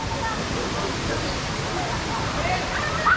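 Malamura waterfall roars in a steady, dense rush of falling water that stays constant and loud throughout, with no talk heard over it.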